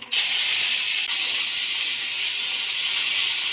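Raw papaya and soaked chickpeas dropped into hot oil with fried five-spice, a loud, steady sizzling hiss starting abruptly and holding evenly, with no talk.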